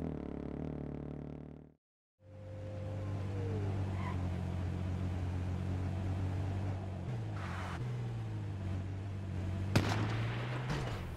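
Gunfire from an active base while an ATV drives past in the H1Z1 video game, with a steady engine drone throughout, a brief dropout, and a few sharper reports late in the clip.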